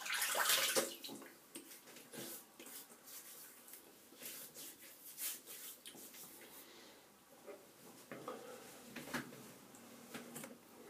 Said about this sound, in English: Let me wet my face again.